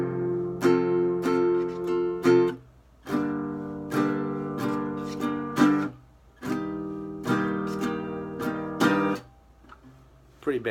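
Acoustic guitar strumming through four chords of a basic song, each chord rung out in repeated strums with brief pauses between the changes. Close and clear, with no talking.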